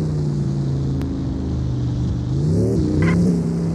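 Audi S8 engine racing on a track in the video game Sakura School Simulator, a loud steady engine drone that climbs in pitch as it revs, with no voices.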